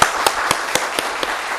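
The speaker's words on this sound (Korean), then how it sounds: "박수 좀 치시죠" A church congregation claps together in a short burst, sharp separate claps at a steady rhythm, fairly close, with no voices over them.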